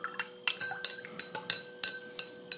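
Make-up remover milk mixture being stirred in a container, a spoon or rod clinking against the sides in a quick irregular series of about ten light taps, close and fairly quiet, with no talking.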